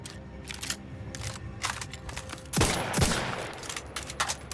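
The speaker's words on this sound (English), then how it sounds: "Marksman rifle." Two loud, close marksman-rifle shots, M14-like, fired in the video game Outer Worlds 2, a sharp crack followed by a second about half a second later, over a low game background with faint clicks.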